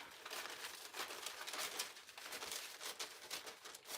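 Paper for decoupage is cut with dull scissors, producing a continuous close crinkly rustle with repeated snips and rough crackling as the blade works through the sheet.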